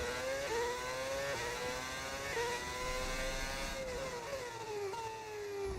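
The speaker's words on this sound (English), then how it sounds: "What engine is that? It's a mod to make it sound like a V8." A racing car in the F1 26 video game, modded to give its Audi power unit a V8 sound, revs through repeated upshifts. Each gear climbs in pitch, then drops at the change. The engine is steady and prominent, with no talking.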